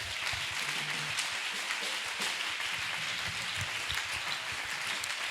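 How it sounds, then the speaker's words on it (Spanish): A church congregation in Torrente bursts into dense, sustained applause, a hissing wash of many hands clapping at once that holds steady and loud without a break. "Dale el mejor aplauso que tengas para Él."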